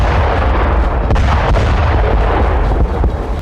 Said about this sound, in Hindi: बारूदी तानाशाह ने एक बार फिर मिसाइल दागकर बड़ा धमाका किया